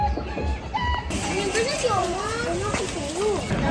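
Nearby ducks quack in several short, bright bursts, mixed with other barnyard fowl and busy chatter from people and children close by.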